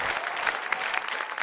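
Studio audience applause on a children's talent show, a bright, dense patter of many hands clapping close and lively, with sharp individual claps standing out across the short burst.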